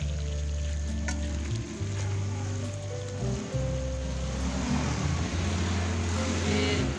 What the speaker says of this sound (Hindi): गोभी की भुनाई होगी अच्छी तरह।